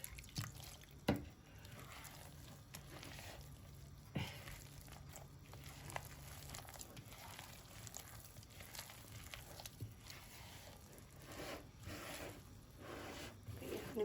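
Soft liquid sounds with drips and small splashes, water trickling into a mixture at close range, steady and fairly quiet throughout.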